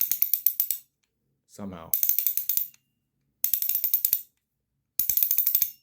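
A ratchet fidget toy clicks in rapid bursts of sharp, close ratcheting, four runs separated by silences, with a brief spoken word between the first two bursts.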